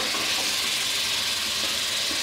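Chicken frying in a karahi with ginger garlic paste, a loud continuous sizzling hiss close by.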